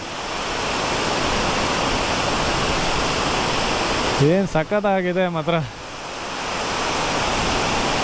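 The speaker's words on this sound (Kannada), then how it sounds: "ಏನು ಕಮ್ಮಿ ಫೋರ್ಸಾಗಿ ನೀರು ಬರ್ತಾ ಇದೆಯಾ." Sirimane waterfall near Kigga, Sringeri in Chikmagalur, with water falling forcefully: a steady, loud, close roar fills the whole clip while someone briefly speaks over it.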